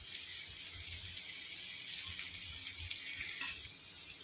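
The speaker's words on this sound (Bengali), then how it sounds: "বাটিটা ধুয়ে একটু জল দিয়ে দিলাম।" A bowl is rinsed out with running water at a kitchen sink while a Kashmiri-style potato curry is cooked, giving a steady, fairly faint splashing hiss that continues throughout with a few soft knocks.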